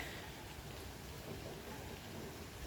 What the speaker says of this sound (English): Pouring rain all day today, and my little garden on the windowsill is getting a nice little drink.